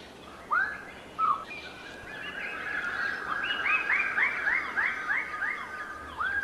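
Lesser birds of paradise displaying on a communal tree in New Guinea give two loud separate calls, then a long run of rapid, repeated whooping notes rising to a ringing chorus, close and continuous over forest ambience.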